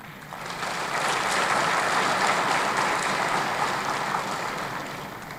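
Sustained audience applause at a Bloc Républicain candidate investiture rally for Benin's 2023 legislative elections, a dense, steady wash of many hands that swells in and holds at full strength before easing slightly at the end.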